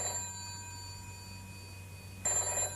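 Telephone in a comedy radio or TV scene ringing, a steady electronic tone with a sharper burst of ring near the end, moderately loud with no one speaking.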